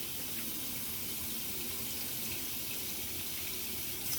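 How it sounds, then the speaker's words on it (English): Hot tap water pours steadily into a sink as soapy hands are rinsed beneath it, a constant close gushing hiss with no voices. "Now I'm going to run them under the rinsed water"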